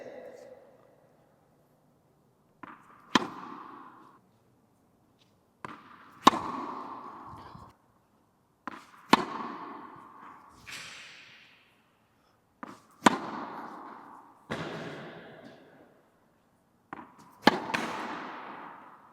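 Tennis ball struck with a slice backhand on a court, a series of about seven sharp, crisp impacts spaced a few seconds apart, each decaying quickly, with quiet coaching voices between hits.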